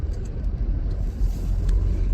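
A single car passes along a rough, unkept rural road, heard as a low, rumbling engine and tyre noise that swells gradually toward the end, with no voices present.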